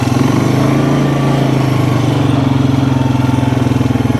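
An ATV engine runs at a steady, loud, close idle with an even pulsing chug while working a food plot.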